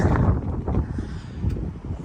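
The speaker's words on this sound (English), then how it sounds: "It's windy outside" Steady gusty wind buffets the microphone outdoors, a low rumbling roar with faint rustling and no voices.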